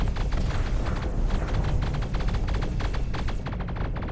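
Ship weapons in the space game Starsector firing in a dense, continuous volley of rapid rattling shots over a steady low rumble, loud and unbroken for several seconds.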